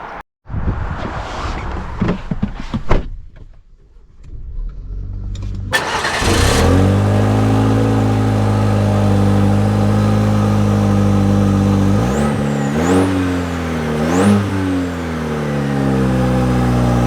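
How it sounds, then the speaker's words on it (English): A Chevrolet Colorado pickup truck's engine fires up after some quiet handling noises, then holds a loud, steady drone as the truck sets off, with engine pitch rising and falling through three distinct gear changes while accelerating. "Let's set off in the Colorado first, and then we will drive the Frontier second."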